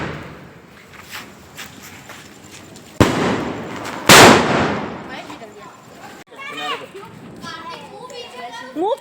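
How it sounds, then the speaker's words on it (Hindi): Firecrackers burst at a Diwali celebration with two loud, close bangs a second apart, followed by hissing crackle as children chatter and shout nearby. "उन्होंने बहुत पटाखे फोड़े।"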